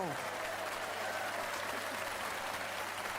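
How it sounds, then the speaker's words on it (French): A TV quiz show studio audience gives loud, dense, sustained applause from start to finish, with voices faintly audible underneath. "Très applaudi, Denise."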